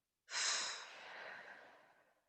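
One long, deep exhale through the mouth during a breathing exercise, a soft airy rush that starts strongly and gradually fades over about two seconds, close and alone.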